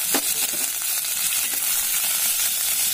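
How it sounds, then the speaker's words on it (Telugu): Ajwain seeds and curry leaves frying in oil in a pan, a close, steady bright sizzle with a sharp spitting crackle at the start and light stirring underneath. "చూడండి, ఇది బాగా వేయించుదాం"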